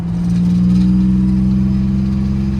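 Buick Grand National turbo engine fitted with a Turbo 400 transmission runs at a steady loud idle, a deep continuous hum with a throbbing low rumble and no talk.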